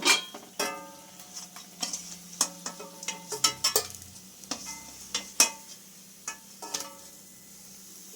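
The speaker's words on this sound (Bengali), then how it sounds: "আমি সবগুলো একে একে ভেজে নেব" Dried fish fritters fry in oil, a steady sizzle punctuated by repeated sharp clicks and scrapes of a utensil against the pan, close and without talking.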